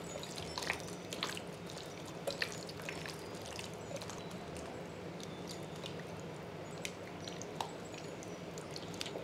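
A spoon working through Afghani chicken gravy in a pan, giving soft wet squishing and dripping sounds over a steady low background hiss, faint and close.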